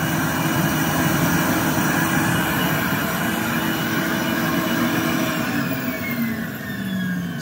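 A Rainbow SRX vacuum running as an air cleaner gives a loud, steady motor whine and rushing airflow. It holds constant throughout, with only a slight dip near the end, and no talking is heard.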